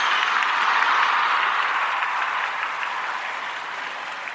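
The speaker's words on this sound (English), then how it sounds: "I gotta give you a round of applause for that one again" A live audience gives a special guest a steady round of applause, a dense wash of clapping that holds evenly and tapers slightly toward the end, with no talking over it.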